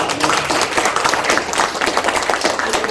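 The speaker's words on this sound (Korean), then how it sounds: "이건 박수 한번 보내주세요. 박수 한번." Lively applause from a breakfast forum audience in Korea, brisk close clapping from a crowd with irregular individual claps popping through, loud and continuous across the short stretch.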